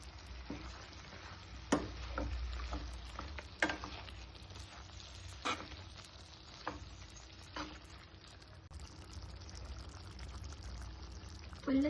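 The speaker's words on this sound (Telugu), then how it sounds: "వాటర్ వేసుకుంటున్నామండి." Water poured into a pan of frying chicken masala spiced with ginger-garlic, salt, chili, turmeric, coriander powder and garam masala; a steady close sizzle runs throughout, broken by a few sharp clinks, with no talking.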